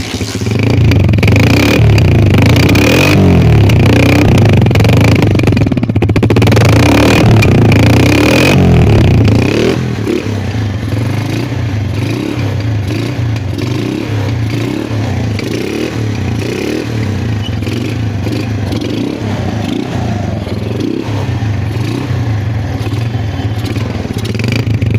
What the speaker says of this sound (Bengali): বাইকটাতে তেল একদমই নাই, তারপরেও দেখি কত দূর একটু স্টার্টে দেখানো যায়।